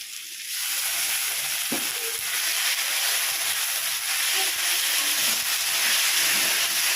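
Ginger-garlic paste sizzles in hot oil in a pan for a Bengali bhetki fish-bone chorchori, a loud, continuous close-up hiss with occasional scraping taps of stirring.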